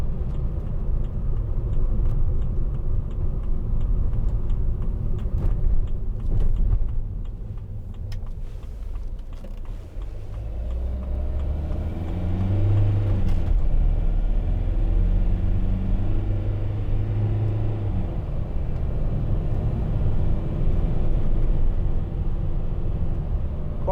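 A 2009 Mercedes-Benz Vito 115CDI van accelerates on the road, its diesel engine a steady low rumble heard from inside that climbs in pitch through the gears, with road noise throughout and no talk.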